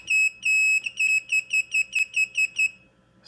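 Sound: beeper on T-Motor Falcon 15 drone

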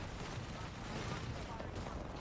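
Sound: Bangalore ultimate artillery barrage from video game Apex Legends

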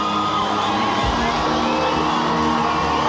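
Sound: boxing arena crowd cheering

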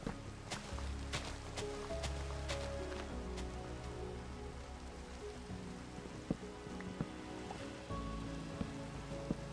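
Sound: rain falling in the video game Minecraft

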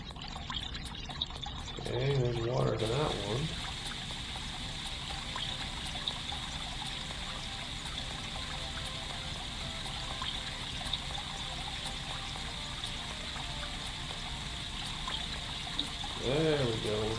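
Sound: flowing water in the Flow Water 3D fountain puzzle video game

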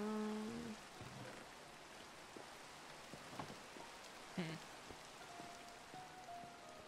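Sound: rain in a video game

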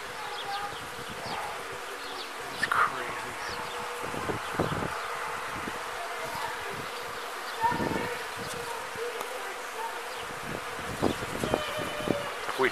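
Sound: bees swarming and buzzing in a tree

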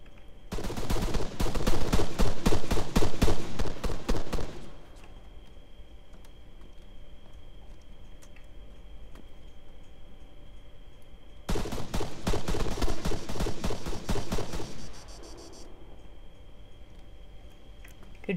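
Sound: gunfire in the video game Arma 3

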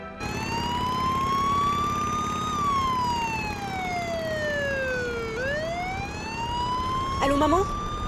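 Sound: police sirens

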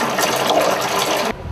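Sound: water filling a basin from the tap

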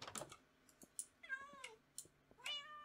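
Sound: cats meowing in the video game Minecraft

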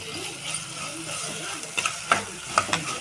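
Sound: ginger garlic paste with pepper and cumin sautéing in pan

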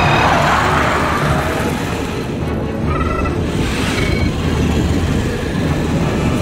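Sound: robots running sound effects with music

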